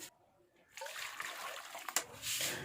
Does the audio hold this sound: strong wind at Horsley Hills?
no